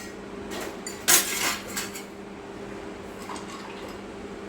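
Two ice cubes drop into a glass of sattu buttermilk drink, making a brief clinking clatter near the start, then quiet kitchen background.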